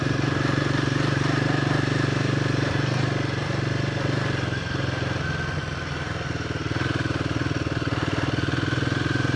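A Royal Enfield Himalayan 450 motorcycle climbing a ski field track, its engine running steady and loud with a low throbbing note throughout, easing slightly midway before pulling on again, with wind rush over the microphone.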